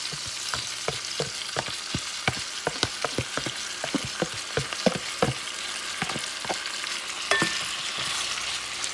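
Onions sizzle in a hot pan beside a bison flat iron steak, a steady frying hiss broken by frequent sharp crackles and pops, close and continuous with no talking.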